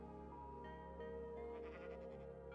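A Minecraft sheep bleats in the video game, a few wavering cries over a steady background of tones that runs through the whole clip.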